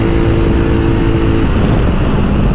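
A 2019 Suzuki V-Strom 650 touring motorcycle is ridden on winter roads. Its engine drones loud and steady under strong wind rush, and the tone shifts partway through.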